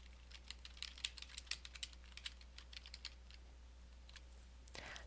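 Rapid, faint clicks of fingers typing on a computer keyboard, an uneven flurry of keystrokes over low room hum, ending with a brief rustle.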